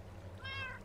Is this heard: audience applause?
no